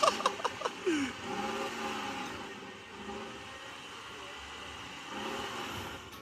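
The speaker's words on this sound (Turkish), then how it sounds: "Ben arabamı binip köyüme gidiyorum arkadaşlar ya." A car pulls away and drives on, its engine holding a steady mid-pitched hum after a few knocks at the start, moderately near, with someone talking partly over it.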